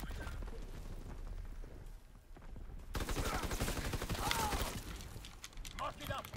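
Gunfire crackles in a World War II video game, with rapid bursts of shots under voices. Part of the way through, the firing cuts off abruptly and then resumes louder with repeated blasts.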